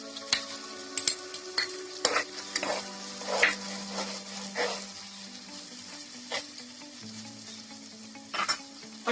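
Tomato puree with garlic and ginger paste sizzling and being stirred in a pan for chicken bukhari, steady frying hiss broken by repeated scraping stirs of a spoon, close and fairly loud with no talking.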